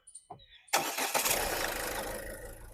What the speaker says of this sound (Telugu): సింగిల్ సెల్ఫ్ బండి స్టార్ట్ అవుతుంది ఎటువంటి స్టార్టింగ్ ట్రబుల్ అయితే లేదు